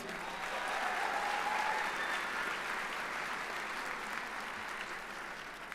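Graduation ceremony crowd gives sustained, even applause, a dense wash of many hands clapping at moderate distance, holding steady and tapering slightly at the end.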